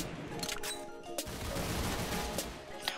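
Gunfire in the Roblox game Arsenal comes as a string of quick, sharp shots and clicks over a busy background, moderately loud with a few louder cracks spread across the moment.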